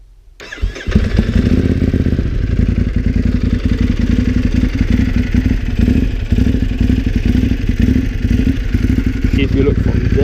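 A 2014 Ducati Hypermotard motorcycle engine and exhaust fire up and settle into a loud, steady, close running rumble with dense rapid pulsing that holds to the end.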